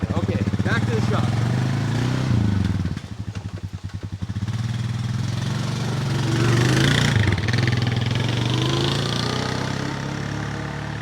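A Honda engine runs steadily nearby at a rough, pulsing idle, dipping briefly in the middle then resuming at a higher rumble, with a person talking over it.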